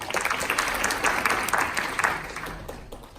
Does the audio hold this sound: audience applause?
yes